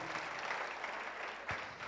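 A church congregation claps hands together in sustained, dense applause throughout, with a brief louder burst near the end.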